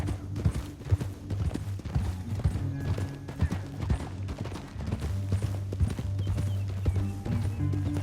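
Horse hooves clip-clopping at a steady walking rhythm in Red Dead Redemption 2, accompanied by a low sustained background score, with no talking.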